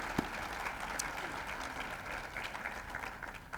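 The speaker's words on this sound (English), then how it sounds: "let's give him a round of applause for 20 years of the Latino Leadership Network" Luncheon crowd in an Albuquerque banquet room applauds for the Latino Leadership Network anniversary, a fairly soft, even patter of clapping that carries on steadily throughout with some background murmur.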